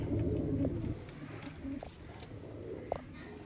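Pigeons coo softly in a breeder's loft, low rolling calls fading in and out over a dense background with a few sharp knocks; no voices stand out.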